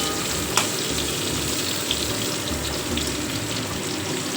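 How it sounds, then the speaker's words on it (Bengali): Small cut potato pieces and papaya frying in a pan, a loud continuous sizzle and crackle heard close up, with no voices over it. "এখানে দেখো মাংসের আলু ভাজা হচ্ছে"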